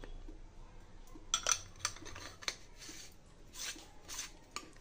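Metal murukku press tube being fitted with a three-hole disc, giving faint, scattered clinks and scrapes of metal parts knocked and rubbed together close by.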